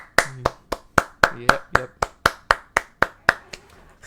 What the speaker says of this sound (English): So everybody clap it up for them.